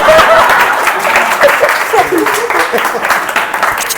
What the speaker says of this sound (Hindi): एक बार सर के लिए एक बार जोरदार तालियां